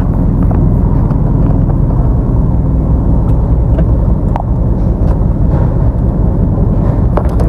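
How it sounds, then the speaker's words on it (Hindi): A car engine idles after a cold start with a steady, loud, low rumble throughout, and the microphone is close to the engine. "Cold start."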